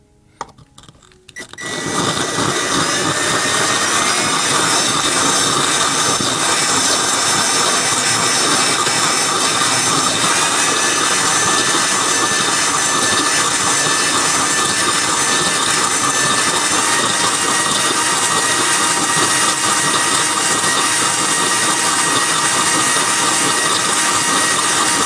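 A Ryobi power tool runs steadily while working on a fused glass clock, a loud, close, continuous whine and grind that starts after a brief quiet moment and holds unbroken to the end.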